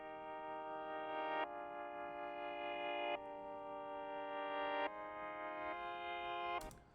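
A reversed melodic trap chord progression on a synth pad swells into each chord change, four blocks in steady succession, then cuts off with a brief sharp transient at the end, alone and without voices.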